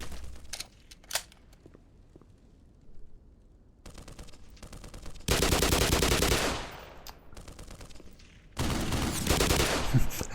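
Gunfire in Black Mesa, the Half-Life remake, in the Xen chapter: a few sparse early shots, then two long, loud bursts of rapid automatic fire separated by a short lull.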